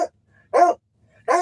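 A hunting dog bred for mountain lions and bear barks loudly and excitedly at close range, two sharp barks with a short pause between them.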